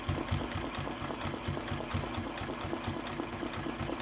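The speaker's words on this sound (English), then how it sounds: "I'm going to come all the way back down this side and stitch in the ditch" A sewing machine runs a continuous, rapid, rhythmic stitch while quilting in the ditch along a charm-square quilt guided by a machine quilting ruler; close, steady mechanical whirring and tapping with no talking.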